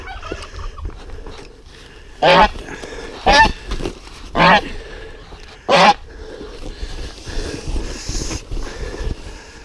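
Four geese being caught and moved by hand honk loudly, with several sharp, separate honks close by against a background of scuffling and handling noise.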